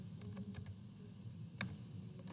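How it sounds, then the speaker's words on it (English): Someone types a web address on a computer keyboard: a few quick, crisp key clicks in two small bursts, close and fairly quiet over a low background hum. "and then type"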